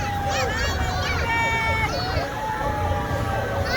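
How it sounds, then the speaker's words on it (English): Fire engine sirens at a Christmas parade in Beaumont rise and fall in overlapping wailing sweeps, fairly loud and steady over crowd noise and a rumbling generator. "I hear fire engines."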